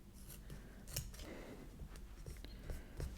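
Scissors snip through washi tape close by, several quiet crisp cuts in uneven rhythm amid soft rustling, with faint low background sound.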